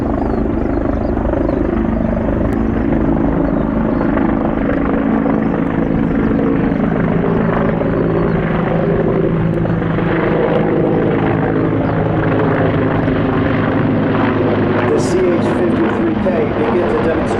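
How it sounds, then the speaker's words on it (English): Sikorsky CH-53K King Stallion heavy-lift helicopter flying a demonstration display at an air show, a loud continuous rotor and engine roar with deep throbbing blade beats, sustained and close throughout, with a voice faintly under the noise. "Damit wollen wir Ihnen die Power, Manövrierfähigkeit und die Leichtigkeit des Fliegens mit der CH-53K King Stallion zeigen."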